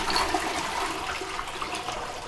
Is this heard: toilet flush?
yes